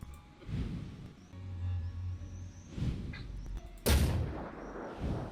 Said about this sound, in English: I'm thinking let's try this free shot out to try and shred this sniper a little bit.